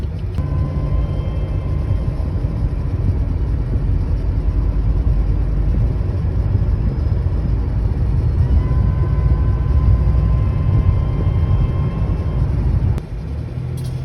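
A supercharged car engine runs steadily with a warmed-up transmission. It is a loud, close, low rumble that drops briefly near the end as a gear changes.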